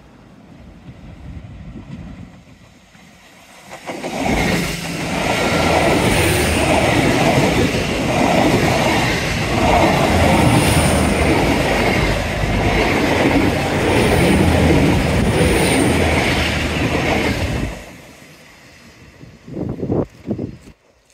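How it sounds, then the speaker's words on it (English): Slow train rolling along a seawall, its rumble swelling in from quiet to a long, loud passage with rhythmic wheel clatter and faint squeals, then fading away with a few knocks at the end. "We have a very slow train approaching"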